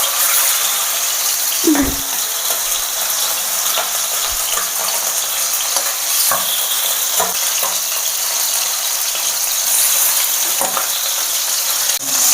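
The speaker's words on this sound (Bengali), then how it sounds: "তেলটা গরম হয়ে গেছে এবার আমি একে একে মাংসগুলো একটু ফ্রাই করে নেবো" Chicken pieces fry in hot white oil for a Bengali-style yogurt chicken, giving a loud, steady sizzle throughout with a few sharp clinks and spatters as the pieces are added and turned; no talking.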